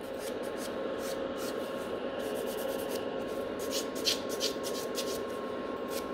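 A nail buffer files gel nails around the cuticle in quick rhythmic strokes, making short scratchy bursts over a faint steady background hum. The sound is close and fairly quiet.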